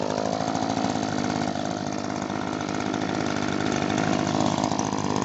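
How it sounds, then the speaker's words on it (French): A new Echo PB-2520 backpack leaf blower's small two-stroke engine runs steadily at close range, a loud, unbroken buzzing drone, with no talking. "Il fait pas un bruit dégueulasse par rapport à d'autres souffleurs que j'ai pu connaître"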